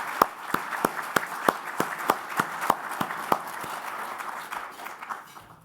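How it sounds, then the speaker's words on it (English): At an awards ceremony, a few sharp, evenly spaced claps stand out over a quiet room, a sparse and fairly close rhythmic clapping that thins out and trails away. "Would you please make yourselves known to us so we can thank you with a great round of applause"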